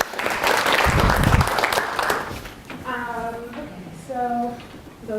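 A college student-event audience at Keuka College applauds for Lindsay, a student advisor, with loud, dense clapping for about two seconds that then fades as voices take over.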